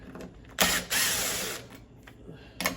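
A ratchet works self-tapping 1/4 inch screws out of a GE Profile French-door refrigerator's filter assembly, giving short clicking bursts and a longer rasping run up close, with faint background noise.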